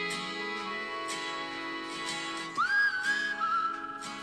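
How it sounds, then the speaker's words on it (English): A single high-pitched whistle rises sharply and holds with a wavering pitch for under two seconds, standing out loud and close over a steady backdrop of music. "That is a high-pitched whistle."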